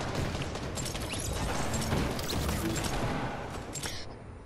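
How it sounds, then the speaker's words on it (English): Rapid drum gun fire in a Fortnite match, a dense sustained burst of gunshots that runs close and loud for several seconds before thinning out near the end. "some kid just had a drum gun! He just shot me with it!"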